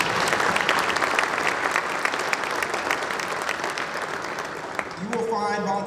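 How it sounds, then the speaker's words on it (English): Crowd applause for event volunteers, a thick continuous clapping with a few sharp standout claps, giving way at the end to a voice. "So thank you all for clapping up for our volunteers today."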